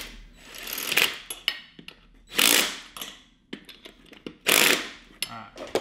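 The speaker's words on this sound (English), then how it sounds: "I'm gonna put a couple of lug nuts on it." Lug nuts are run onto a kart's front brake rotor with a power tool, three loud whirring bursts separated by metallic clicks and handling clatter, close by.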